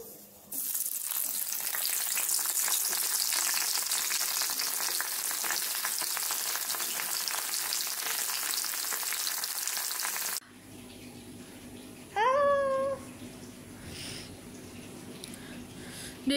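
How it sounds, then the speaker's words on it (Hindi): Jackfruit chunks frying in hot oil give a loud, steady crackling sizzle for about ten seconds, then the sound drops to quieter kitchen noise with a brief high-pitched whistle-like tone. "सबसे पहले मैं कटहल को फ्राई करूँगी"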